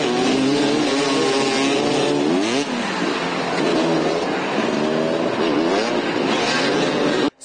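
Motoball motorcycles rev before a match, with repeated rising and falling engine whines overlapping loudly and continuously, then cutting off at the end.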